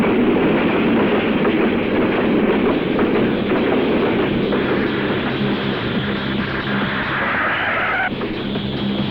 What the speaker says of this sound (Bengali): রাজা সাহেব, সামনে রেল গেট